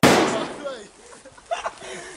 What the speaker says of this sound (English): I broke the branch, man.